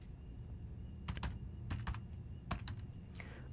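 Keys clatter on a computer keyboard while a router hostname is entered during a routing and switching skills exercise, coming as a few quick bursts of clicks separated by brief pauses against a low background hum.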